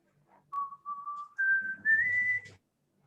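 A single person whistles a short, cheerful rising tune alone in a quiet room, four clear notes climbing in pitch and ending abruptly.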